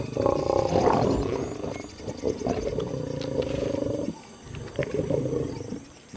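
Lions from a pride roar and growl over a wildebeest carcass by the Limpopo River in Africa, deep, rough, loud roars close by that swell and fade across several seconds, with no talking.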